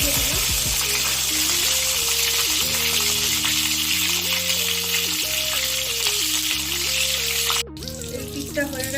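Hot oil hisses steadily in a wok beneath background music, then a burst of sharper crackling near the end as eggplant slices go in to fry.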